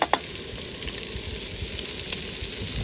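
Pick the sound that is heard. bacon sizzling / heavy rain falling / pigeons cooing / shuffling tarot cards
bacon sizzling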